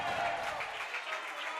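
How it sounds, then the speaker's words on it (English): Spectators clap at a men's racquetball semifinal between the USA and Bolivia at the Pan American Championships, a steady scattered applause that carries through the whole moment at moderate level. "His dad and coach applauds down below us."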